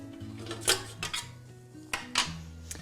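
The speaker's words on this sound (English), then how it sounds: "Instead of the actual head of the mixer lifting up and down, the bowl lifts up and down" A KitchenAid bowl-lift stand mixer bowl is lifted with a few close metallic clunks and clicks, short knocks spaced out over a low hum.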